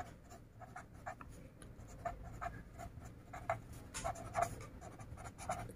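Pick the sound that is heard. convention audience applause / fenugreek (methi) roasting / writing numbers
writing numbers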